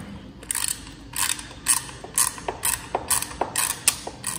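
Fairing tower clamps being tightened on a KTM 690 motorcycle give a run of close, sharp ratcheting clicks in short irregular bursts, with no talk.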